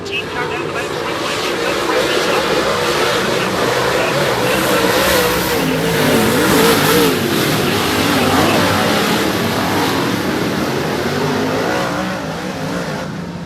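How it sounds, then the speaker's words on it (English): Modified race cars roaring around the I-55 Speedway dirt oval in a heat race, a loud sustained engine drone rising and falling as the pack circles, with an announcer talking over it. "He's going to point that 14 car down the back straightaway."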